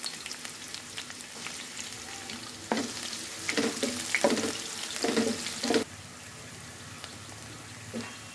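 Chopped onion frying in oil in a wok, a steady sizzle with bursts of louder crackling and stirring scrapes in the middle before the frying settles back to a quieter hiss.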